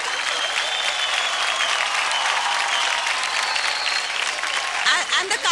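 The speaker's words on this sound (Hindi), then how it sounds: "अरे जोरदार तालियां हो जाए" Loud, steady applause from a studio audience on a Hindi TV talent show, a dense continuous wash of clapping with crowd noise, and brief voices breaking through near the end.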